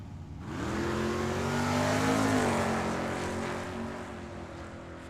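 A drag racing car launches down the strip at Tucson Dragway, its engine roaring loudly with a rising pitch that swells over a few seconds, then slowly fades as it pulls away.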